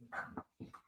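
A dog gives a couple of faint, short barks or yips in quick succession, quiet and somewhat distant in a calm indoor room.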